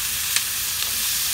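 Fresh tomatoes sautéing in a hot pan with softened onions, a steady close hiss of frying with a couple of faint sharper spits, no voices.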